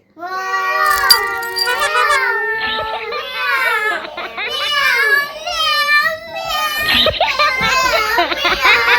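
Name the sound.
children imitating a cat meowing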